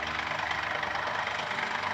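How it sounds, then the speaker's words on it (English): A Mercedes engine idles steadily during an automatic transmission oil change on a 9G-Tronic gearbox, a continuous close, even mechanical hum with no break. "To check the level of the transmission, the engine needs to be running for this process."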